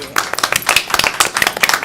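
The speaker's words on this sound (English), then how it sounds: "Can we rise and give him an applause, please?" Audience members at a school board meeting clap for a student being honoured, a close, lively burst of uneven hand claps with a brief voice mixed in.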